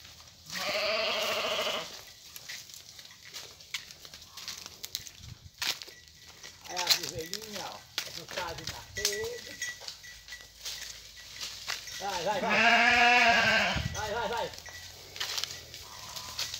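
Sheep bleating at feeding time on a farm, with several loud, wavering bleats near the start, middle and end, mixed with rustling and other noises. No speech is heard.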